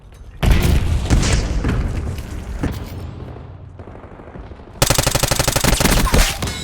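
Frag grenade blast in the Black Ops 6 video game on the Skyline map, a loud booming explosion with rattling gunfire, then a second harsh burst of rapid fire near the end.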